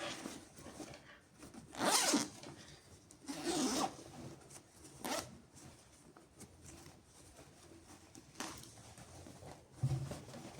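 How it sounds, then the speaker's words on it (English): Zip-off travel jogger pants being zipped and unzipped, with several separate rasping zipper pulls spaced a second or two apart, close and clear against a quiet background. "you can simply use the zip and unzip"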